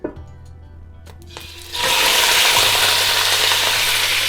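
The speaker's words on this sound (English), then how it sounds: "Don't forget to stir it, because we want to make sure that the all meat is covered in oil." Meat frying in hot oil in a pot for traditional Uzbek plov, starting with quiet stirring and clatter, then a loud, steady, close sizzle that jumps up sharply and holds without letting up.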